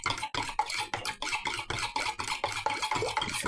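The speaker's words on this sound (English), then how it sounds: "Beat the egg, add it to the milk mix. I would get the whisk, but the fork's just as good." Egg beaten into a milk mixture with a fork in a bowl: a close, steady rhythm of quick wet strokes and light scraping, about three or four strokes per second, continuing without pause.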